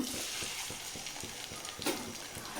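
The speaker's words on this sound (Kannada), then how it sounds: "ಎಣ್ಣೆ ಬಿಸಿಯಾಗಿದೆ, ಆನಿಯನ್ಸ್ ಹಾಕ್ಕೊಳ್ತೀನಿ." Chopped onions frying in hot oil for a Mumbai-style chicken kheema: a steady, close sizzle with regular stirring strokes scraping through it, and no talking.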